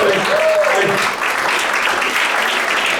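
An audience at a magic show breaks into a burst of applause, dense steady clapping that stays loud for about three seconds, with some voices mixed in.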